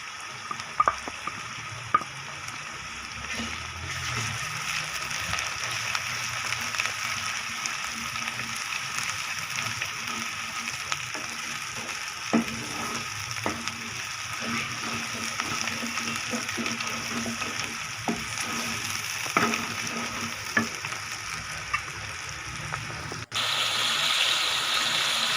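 Ginger garlic paste fries in a pan for a spicy potato karahi, a steady soft sizzle with scattered pops and occasional stirring scrapes, fairly faint and continuous.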